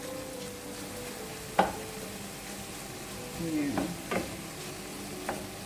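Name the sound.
garlic sizzling in pan for pumpkin lentil stew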